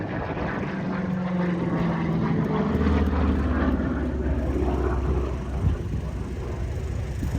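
A P-47 Thunderbolt's propeller engine drones at an airshow, a loud continuous roar that swells and passes at mid distance.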